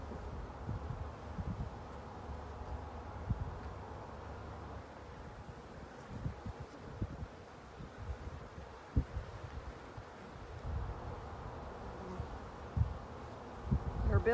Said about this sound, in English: Ton of bees.